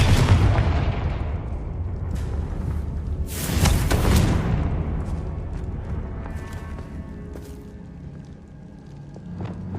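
A Confringo blasting spell explodes in Hogwarts Legacy, with a loud, broad boom at about three to four seconds. The blast is layered over continuous rumbling game combat and fades into a lower-level background roar.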